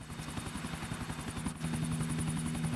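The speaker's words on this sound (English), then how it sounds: "You just try to land the helicopter." A helicopter in a Need for Speed: Most Wanted speedrun, where the player tries to land it in a fountain, gives a steady rhythmic rotor thump under a constant engine whine, loud and continuous throughout with no talking.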